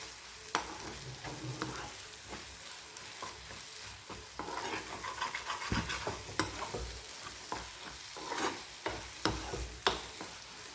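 Shredded fish piddupu frying in a pan, stirred continuously. A soft, steady sizzle runs under frequent small scrapes and taps of a spatula, close but fairly quiet.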